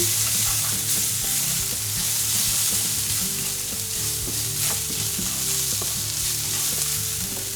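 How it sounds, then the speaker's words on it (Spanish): Turmeric and a little pepper stirred into a hot pan of sizzling food for a vegan tofu dish, a constant loud fry with scraping stirs throughout and no voices. "la cúrcuma, un poquito de pimienta, removemos bien."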